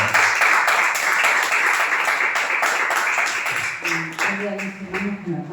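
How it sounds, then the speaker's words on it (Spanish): Church congregation applauding loudly together during a Saturday worship service, a steady sustained wash of clapping that thins toward the end as voices and a few sung or spoken tones emerge. "Fuerte el aplauso al Señor."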